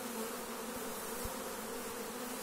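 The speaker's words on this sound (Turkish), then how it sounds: "Arıya bakın" A steady bee buzz hums continuously in the background, faint and even throughout, with no voices.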